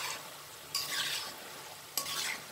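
Namak pare, small fried dough pieces, bubble in hot oil with a soft steady sizzle, broken by two bursts of stirring as a spoon swirls through them, close up with no speech.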